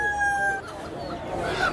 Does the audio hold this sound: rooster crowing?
yes